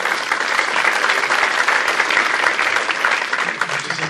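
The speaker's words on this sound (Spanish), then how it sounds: "Recibamos con un fuerte aplauso," An audience at a talk on solstices and equinoxes gives sustained applause to welcome a speaker, a dense, even wash of many clapping hands that stays loud for the whole stretch.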